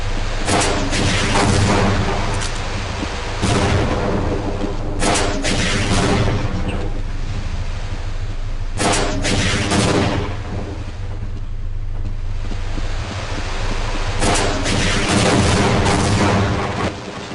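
Rocket launcher fire and explosions in the video game Half-Life: Blue Shift, heavy booming blasts recurring several times over a loud, rumbling game background.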